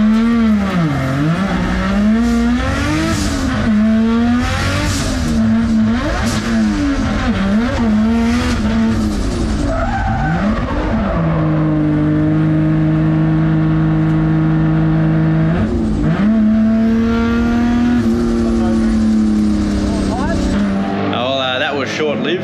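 A 1.5JZ-swapped Nissan S15 Silvia making around 885 hp, drift testing, its engine revving hard and wavering up and down continuously and loudly, with tyre noise beneath and people talking over it.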